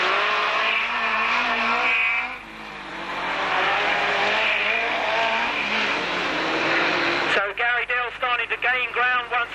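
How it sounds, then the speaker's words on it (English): Racing vans from an auto club van meeting roar past in a 30-lap race, a loud sustained engine drone rising and falling under continuous commentary, then clipped engine bursts near the end. "Which leaves Derek Warburton in charge of this 30-lap race."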